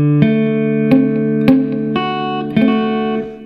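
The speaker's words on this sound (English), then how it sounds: "Or it could have been this finger over here leaning over too far, your middle finger, because that would sound like this." Guitar chord strummed repeatedly with one string dulled by a middle finger leaning over too far, several clear strums in a steady rhythm, close and fairly loud, with no talking.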